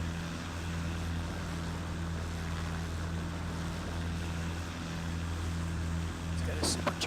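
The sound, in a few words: Cessna propeller engine in video game Flight Simulator X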